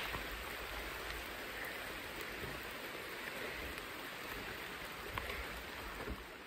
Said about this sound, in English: So the rain has really picked up.